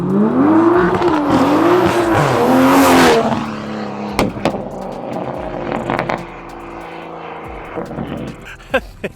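An 800 hp Toyota A90 Supra running on methanol accelerates hard. Its engine roars loudly and rises in pitch through the gears, then cuts off into popping, crackling and short bursts.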